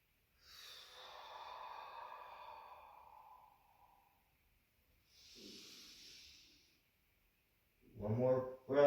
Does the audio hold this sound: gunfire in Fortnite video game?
no